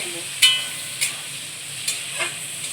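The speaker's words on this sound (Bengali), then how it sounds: "পেঁয়াজগুলোকে ভালোভাবে ভেজে" Onions fry in a pan with a soft, continuous sizzle, broken by a few faint clinks and stirring scrapes at irregular moments.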